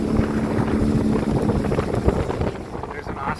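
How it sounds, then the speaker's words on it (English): Strong wind of about 25 mph gusts past a houseboat on open water, buffeting the microphone in a constant loud rush with irregular swells, close and unbroken throughout. "It's windy."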